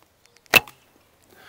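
A single arrow is loosed from a short Manchu bow by Sergey Tolochko of Sarmat Archery, drawn to 34 inches. It makes one sharp, close snap of string and shaft, then near silence.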